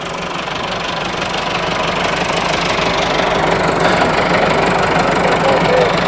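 A 4WD 385 tractor running on GPS auto-steering gives a loud, steady, knocking diesel drone with constant vibration, close and unbroken throughout, with a voice faintly present beneath it.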